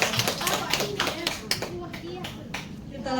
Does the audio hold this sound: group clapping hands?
yes